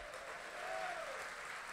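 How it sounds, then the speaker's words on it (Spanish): Church congregation clapping hands in praise during a sermon, a steady wash of applause throughout, with a faint sustained voice or tone rising briefly in the middle. "Dele palmas al Señor."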